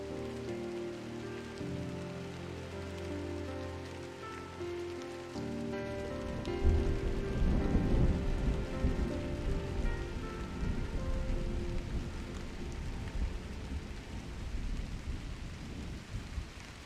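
Steady rain patters in the game Drizzlepath, with low rumbles of thunder rolling underneath as the downpour swells midway and then holds at a constant hiss.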